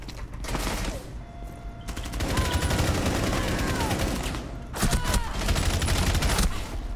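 Rapid automatic gunfire in the Rainbow 6 video game, dense bursts of close shots rattling in long sustained volleys with a short pause between them.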